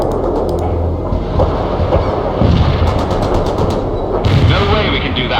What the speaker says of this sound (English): The barrage was right on target.